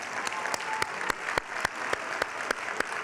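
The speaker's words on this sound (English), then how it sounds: "We can clap for them." Steady applause from a crowd, with dense clapping and a few louder, sharper claps standing out at regular intervals. No voices.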